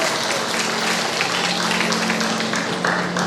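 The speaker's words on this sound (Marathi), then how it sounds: "जोरदार टाळ्या वाजवूयात" Audience applause at an evening cultural program, steady dense clapping from a crowd filling the whole moment.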